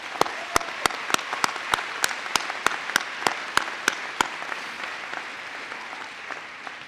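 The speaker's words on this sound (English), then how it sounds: "let's give all of those supporters a round of applause" An audience applauds at a college commencement ceremony, with a few sharp, loud claps standing out in a steady rhythm over the general clapping before it thins and fades.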